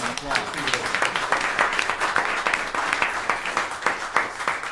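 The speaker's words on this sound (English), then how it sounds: "So we give you a round of applause." Audience applause for a live band during a studio show, dense and steady clapping lasting several seconds with some voices mixed in.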